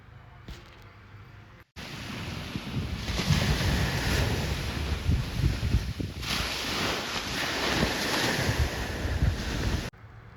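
Surf rolling onto Prayagi beach on the Chilika coast near a fishing village and its boats, a loud, broad rush of breaking waves with heavy wind buffeting the microphone, no voices.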